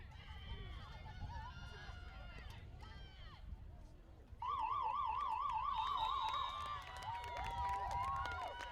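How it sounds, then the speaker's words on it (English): An end-of-game siren at a high school field hockey match rings out loud and steady over the outdoor crowd noise and talk, wavering in a warbling tone for several seconds. "the siren rather"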